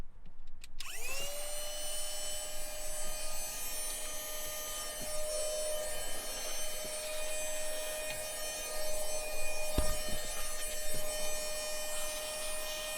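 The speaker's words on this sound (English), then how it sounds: "This isn't the best car vacuum, but I was pretty impressed." A small handheld car vacuum, run in blower mode to blow out dust, whines up to speed and runs steadily with a high-pitched hum and airy rush, a few faint knocks and rattles underneath.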